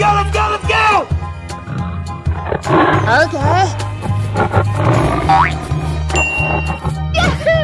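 A cartoon lion roars amid lively children's animation audio of a wild-animal crossing scene, the growl swelling over bouncy music, boing effects and playful voices that keep talking throughout.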